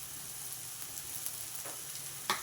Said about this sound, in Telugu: ఉల్లిపాయలు వేగిపోయినాయండి నలిపి పెట్టుకున్న చింత చిగురు వేసేసా